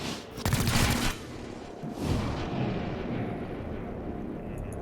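Breach gunfire in the video game XCOM, a dense burst of rapid shots and blasts followed by a sustained rumbling roar of fire, loud and close with no talking.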